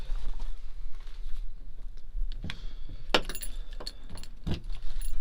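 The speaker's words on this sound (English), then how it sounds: "so I can see the blinker keys to get them out" A bunch of van keys jangles in bursts as they are pulled out at night, with clinking metallic taps scattered across a steady background hum.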